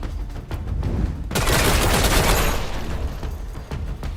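Gunfire in the tactical video game Miasma Chronicles: a few sharp shots up front, then a loud, dense burst of automatic fire that roars for over a second before tapering into scattered reports.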